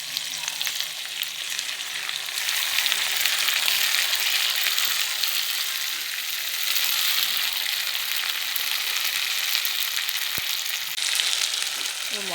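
Spice paste for a village-style chicken curry frying in hot oil, a loud, continuous close sizzle with faint stirring scrapes throughout and no talking.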